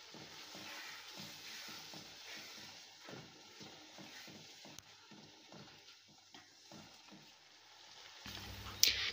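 Peas frying in a pan for a mixed vegetable bhujia, a steady close sizzle with soft stirring scrapes throughout, ending in a brief louder clatter.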